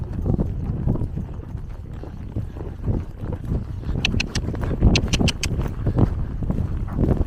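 A horse's hooves clop on hard ground in a steady walking rhythm at a riding arena, with wind rumbling across the microphone and a few bright jingling clinks.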